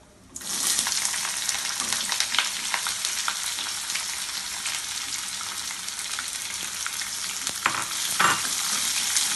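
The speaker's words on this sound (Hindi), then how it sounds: "கடலப்பருப்பு நல்லா வறுபட்டுருச்சு பெரிய வெங்காயம் போட்டுக்கலாம்" Onion and chana dal sizzle in an oiled pan for kadhamba chutney, a steady close crackling hiss that starts abruptly and holds, with occasional stirring scrapes and pops.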